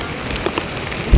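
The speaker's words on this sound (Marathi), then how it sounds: "नंतर जबरदस्त जोरदार पाऊस यायला" Heavy rain pours down steadily on surfaces close by during a pilgrimage trip to Yamunotri, a dense continuous patter with a brief thump near the end.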